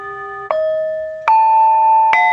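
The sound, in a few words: prayer bowls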